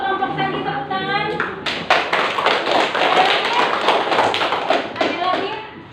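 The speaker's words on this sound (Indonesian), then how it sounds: "Bagus, kelompok tadi tepuk tangan." Classroom applause for a student group during a lesson: a burst of many hands clapping close by, dense and steady for several seconds after a voice briefly speaks.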